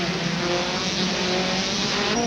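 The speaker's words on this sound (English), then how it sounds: "Through Maternity Bend, accelerating down the hill. Remarkable speeds for these touring cars." Touring race cars at the 1992 Macau Guia Race accelerate downhill out of Maternity Bend, a loud, sustained engine roar close by with no pauses.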